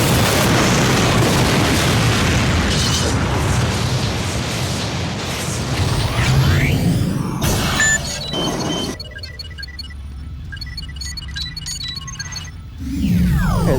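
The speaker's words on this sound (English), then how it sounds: "you have yourself a shot of Moscow blowing up" Visual-effects explosion of Moscow from Stargate SG-1: a sustained loud, rumbling roar with booming low end, easing off midway, then a short quieter stretch and a final swell of rumble at the end.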